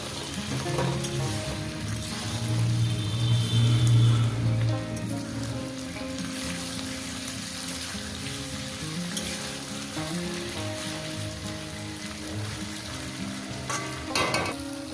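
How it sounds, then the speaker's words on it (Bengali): Spicy bele fish frying with potato, onion, tomato and coriander leaves, a steady close sizzle with stirring scrapes running throughout, no talking. "দানা ফেলে দিয়েছি আর ধনে পাতা দিয়ে দিলাম এবার এটা দিয়ে ভাজবো"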